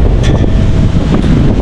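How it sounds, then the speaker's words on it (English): Strong wind buffets the microphone on Adderley Street in downtown Cape Town at night, a loud continuous roar with no speech over it. "this side is very, very, very windy, guys. It's literally too much wind."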